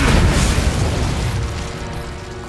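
A single heavy Confringo spell explosion in the Hogwarts Legacy game, a loud booming blast that rolls off into a decaying rumble over a couple of seconds, with no voice.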